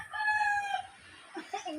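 Chickens on a rural farm: a rooster crows a long drawn-out call up close, followed by short clucks from hens, fairly loud and clear with no talking.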